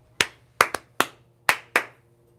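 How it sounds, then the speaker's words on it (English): A person claps their hands six times in an uneven rhythm, with a close, sharp, dry crack on each one and quiet between them. "Why did I clap like that?"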